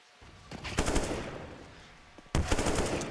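Counter-Strike: Global Offensive gunfire during a pistol round of an ESL UK Premiership grand final, with two sharp bursts of rapid shots and a gap of trailing echo between them, loud and close.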